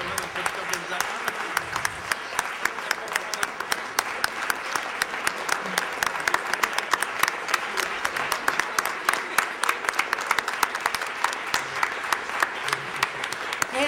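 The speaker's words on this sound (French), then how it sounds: "J'inviterai tout le monde à applaudir très chaleureusement le comité organisateur" At the closing of a Quebec mining forum, a standing audience applauds the organizing committee with sustained, warm clapping in which individual sharp claps are distinct, and some voices can be heard beneath it.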